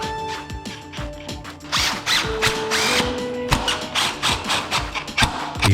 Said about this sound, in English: Place the stopper in its position on the gate frame and drive the screws to the holes.